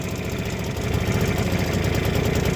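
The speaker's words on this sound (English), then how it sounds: "the wee outboard just on tickover, it's quite nice" A small outboard motor on a budget dinghy ticks over at idle out on the water, a steady, close, even engine drone with no talking.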